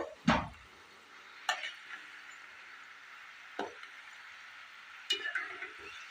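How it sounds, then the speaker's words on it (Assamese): Assamese pitha frying in hot oil, giving a faint, continuous sizzle with a few sharp scrapes and taps of a spatula against the pan at irregular intervals. "এইদৰে ইলুটি শিলুটিকৈ আপোনালোকে ৰংচঙীয়াকৈ ভাজিব, মচমচীয়া হ'ব তেতিয়া।"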